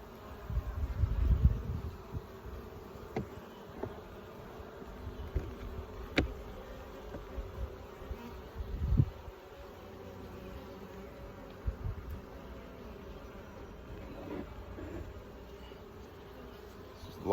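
Honey bees buzz around an open nucleus hive being installed in West Virginia, a steady low insect drone with louder swells as bees pass close by, with occasional handling knocks.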